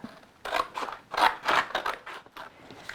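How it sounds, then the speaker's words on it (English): Repeated crisp snips of scissors cutting a circle out of a stiff cardboard cracker box, a series of close, uneven cuts with brief pauses between them. "We'll go ahead with our scissors and we'll just cut that out."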